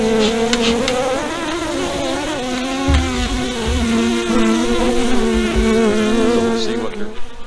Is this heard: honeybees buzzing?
yes